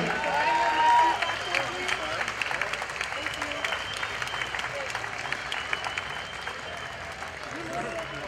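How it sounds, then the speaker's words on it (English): An audience at a military-honoring parade ceremony applauds in a steady, fairly distant wash of clapping, with people talking and crowd murmur mixed underneath throughout. "A nice round of applause."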